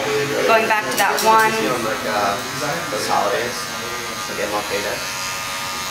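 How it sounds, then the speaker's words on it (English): An electric hair trimmer buzzes close by as a barber trims around a client's ears, a steady whine under continuous talking. "I'm going to be getting around his ears with my trimmer"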